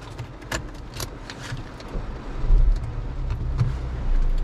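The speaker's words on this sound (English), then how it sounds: "Start the car" A car's engine is started with a new spare remote key inside the vehicle, with a low idle rumble that grows louder toward the end, preceded by a few faint clicks and key rattles.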